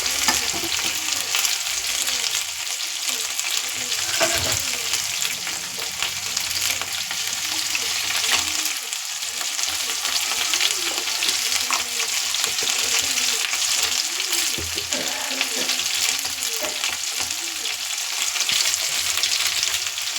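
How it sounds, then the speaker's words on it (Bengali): Potatoes fried with salt, turmeric and spices are stirred in a pan, giving a continuous loud sizzle with close, steady scraping stirs throughout and no talking. "ভালো করে নাড়া দিয়ে নিয়েছি।"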